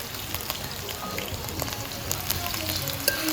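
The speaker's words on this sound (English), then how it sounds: "I love the smell of onions frying in hot oil" Steady crackling sizzle of onions frying in hot oil in a pot for Gilbaka curry, a dense continuous hiss with small pops scattered throughout, close by and moderately loud.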